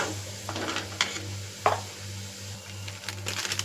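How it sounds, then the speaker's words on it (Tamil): Mushroom gravy masala sautéing in a pan, a soft steady sizzle with occasional scraping stirs and a couple of sharper clinks of the spoon against the pan, close and fairly quiet, no voices. "பச்சை வாடை போகிற வரைக்கும் ஒரு நிமிஷத்துக்கு நல்லா இது வதங்கி வரட்டும்"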